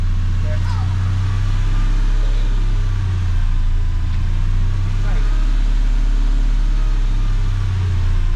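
A Mercedes C55 AMG engine runs loud and steady on its first start after a manual swap, held at a high idle with a deep rumble, and muffled voices sit faintly underneath.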